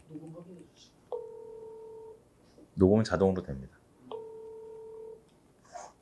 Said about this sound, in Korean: 지금 전화를 한번 걸어보겠습니다